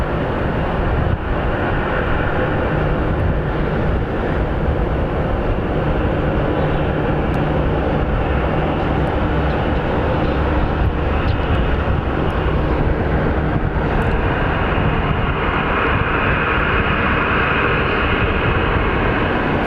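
An Alaska Airlines airplane at Phoenix Sky Harbor produces a loud, steady, broadband jet roar that holds unbroken throughout.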